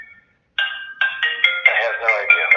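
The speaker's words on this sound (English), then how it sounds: "I'm sorry, my phone's ringing." A mobile phone ringtone plays a bright electronic melody of rising and falling tones, fairly loud and close, after a brief faint tone at the start.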